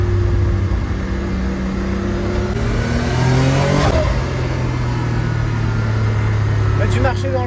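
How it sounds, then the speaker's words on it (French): A Venturi 400 Trophy road-legal sports car, 408 hp, pulls hard under acceleration. Its turbocharged engine note rises steadily and stays loud and close throughout, with faint speech underneath. "ce bruit de turbo, mais c'est... magnifique"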